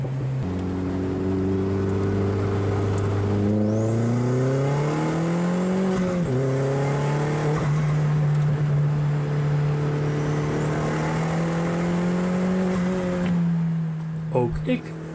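Supercharged Opel Speedster idling and revving in a circuit paddock, engine tone climbing and falling through several blips before settling to a steady idle, loud and close, with a voice briefly heard near the end.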